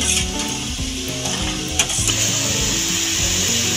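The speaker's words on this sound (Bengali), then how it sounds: "গাজরটা একদিকে আমি ভাজা বসিয়ে দিয়েছি ঘিয়ের মধ্যে" Grated carrot fries in ghee for carrot halwa, a loud continuous sizzle with a dense bright hiss and low rumbling under it, a brief clack partway through.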